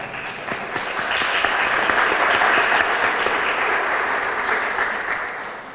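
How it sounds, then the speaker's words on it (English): An audience at an East Nashville community meeting on school pathways gives a round of applause that swells quickly, holds steady and loud, then tapers off near the end. "Let's give our East Nashville Advisory Board a round of applause."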